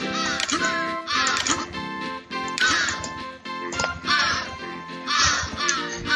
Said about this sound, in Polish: A już tutaj kruki kraczą.